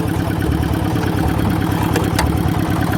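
An old Daedong power tiller, decades old and brought back after sitting unused, idles steadily after starting, its loud, close engine thrumming in an even, continuous rhythm.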